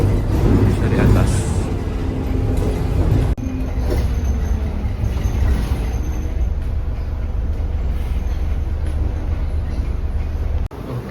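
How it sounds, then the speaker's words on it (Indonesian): Loud rumbling inside a moving Singapore MRT metro train, with rail noise and rattling throughout, a brief squeal near the start and a voice talking over it. "jadi ini kita naik MRT-nya"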